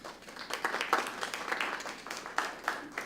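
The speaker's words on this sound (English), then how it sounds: "Give yourself a round of applause." A round of applause from attendees at a Pathways support session for base camp managers, moderately distant clapping with a few sharper individual claps standing out, fairly light and uneven.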